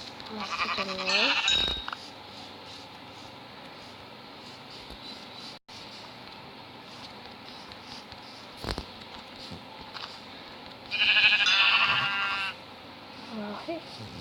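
In a survival video game, a sheep bleats up close twice, a short quavering call at the start and a longer one later, with soft ambient background between.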